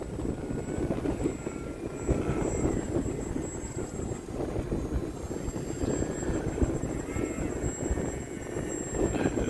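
A HobbyZone AeroScout S radio-controlled airplane flies in strong wind, its electric propeller motor droning steadily at a moderate distance over constant wind rumble, with no talking.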